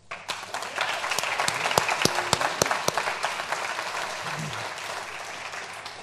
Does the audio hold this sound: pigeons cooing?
no